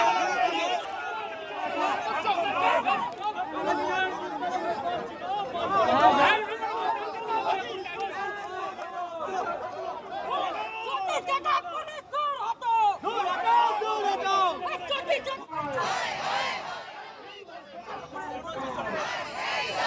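BJP protesters sitting on National Highway 19 where tyres are burning raise a dense, continuous babble of many voices, with overlapping shouts and talk rising and falling throughout.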